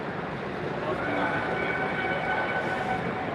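A model ore train runs along a modular layout at a crowded train show, giving a steady, fairly loud rolling rumble with constant hall background noise and no distinct pauses.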